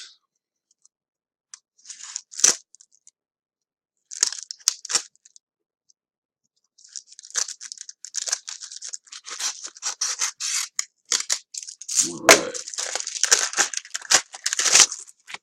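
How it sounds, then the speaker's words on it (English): A box cutter utility blade cuts open a tightly sealed package, making scraping, slicing and crinkling sounds in irregular bursts after a few sharp early strokes. The noise grows busier and louder toward the end with some rustling, with no talking. "Let me get my knife. My box cutter. Utility blade, as some people may call it."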